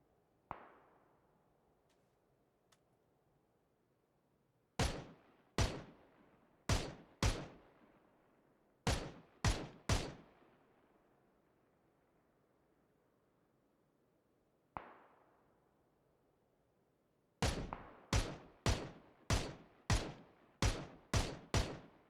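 Sharp gunshots in the video game PUBG crack out in bursts, a single shot and a few spaced ones, then a quick rapid volley, each with a short ringing tail and no talking.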